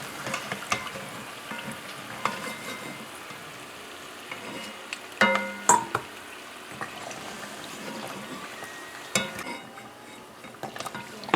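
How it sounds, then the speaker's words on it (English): Fried Guyanese mithai are lifted out of hot oil and a new batch goes in, with scattered metal clinks and scrapes of utensils against the pot over a continuous soft frying sizzle, close and without talk. "we're gonna remove this from the oil now and put in our next batch"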